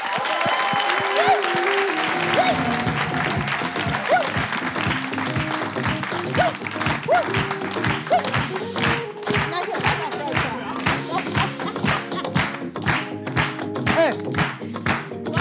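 A live audience in France gives a sustained ovation, with steady, dense clapping from a crowd that continues throughout, interspersed with a few louder claps.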